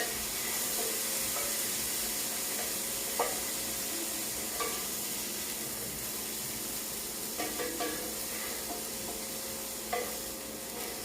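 Broccoli stir-fried in a hot pan gives a soft continuous sizzle, with occasional scraping clicks and knocks as it is stirred and lifted out; fairly quiet, no voices.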